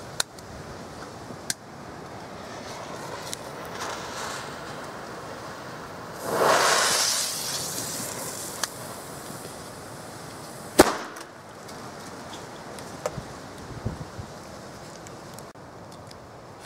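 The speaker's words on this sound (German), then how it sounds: "und als nächstes und letztes der kubische Kanonenschlag." A cubic Kanonenschlag firecracker's fuse hisses loudly for about two seconds, then a single sharp, loud bang rings out, followed by quieter scattered pops and ambient noise.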